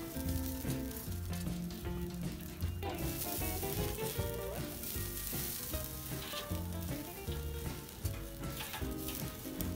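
Pork belly frying over a firewood fire, a continuous crackling sizzle heard faintly beneath loud music with a steady beat and melody throughout.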